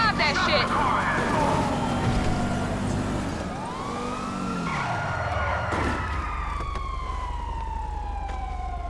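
A game car engine drones and rattles among sirens, tire squeals and other vehicle noise, with voices talking over the mix.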